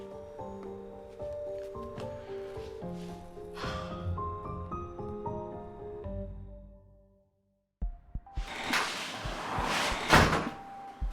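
Loud knocking and thumps against a door, bursting in after a stretch of melodic music and a brief silence, close and forceful.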